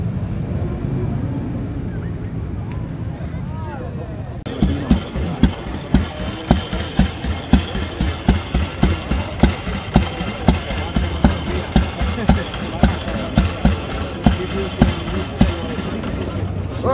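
Many motorcycles at the 2019 Fossano motorcycle rally roar to life after a quiet, talky opening. A dense, loud engine noise then carries on with steady rhythmic revving pulses to the end.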